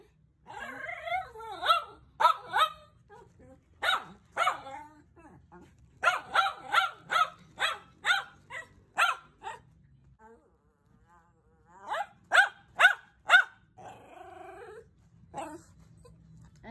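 Several dogs bark in sharp bursts and clusters, fairly close and loud, with a few short pauses between volleys and faint background noise.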